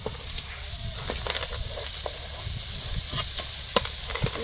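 Cauliflower and potatoes fry in masala in a pan, with a steady close sizzle and intermittent scraping clicks as they are stirred.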